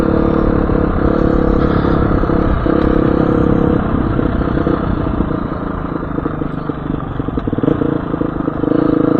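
A motorcycle engine drones loud and close throughout a ride, a steady rumbling hum with wind noise and faint rattles and no real changes in pace.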